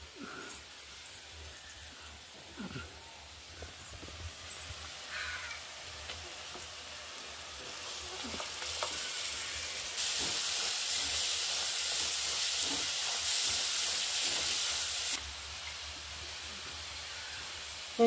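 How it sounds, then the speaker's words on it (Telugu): Onions with masala and chilli powder frying in a pan give a soft, continuous sizzle and hiss that grows louder midway, then settles back down, with no talking over it. "ఉల్లిపాయలు మసాలా అంతా వేసి సూపర్గా కారం అంతా వేసి మంచిగా మగ్గించుకుంటున్నాను"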